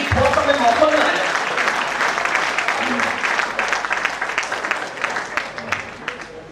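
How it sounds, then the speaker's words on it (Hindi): A hall audience applauds during a Hindi poetry gathering with Kavi Rahul Sharma: steady crowd clapping that thins into scattered individual claps, with someone talking over it throughout. "एक बार उनके सम्मान में पूरा सदन ताली बजा रहा है"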